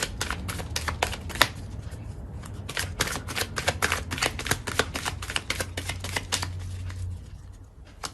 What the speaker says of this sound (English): Hang on, we're just gonna get some more cards.